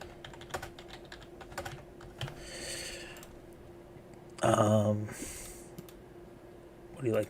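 Fingers tap a computer keyboard in quick uneven bursts of close clicks, with a brief stretch of talk and some breathing mixed in.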